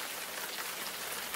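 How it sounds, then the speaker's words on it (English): Rain pours onto a train platform, a dense, steady hiss of falling water and splashing drops spread evenly across the whole moment, with no voices. "Wayne looks up and down the platform and watches as the water splashes from the rain."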